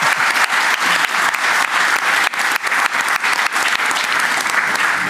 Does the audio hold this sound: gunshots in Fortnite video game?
no